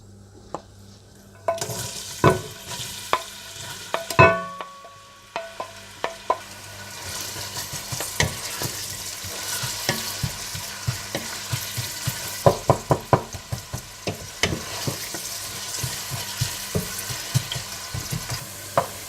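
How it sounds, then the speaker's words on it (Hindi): Onions sizzle and fry steadily in hot ghee, with occasional stirring clatter and utensil taps throughout; no talking. "घी गरम करके इसमें प्याज डालकर हल्के ब्राउन कर लें।"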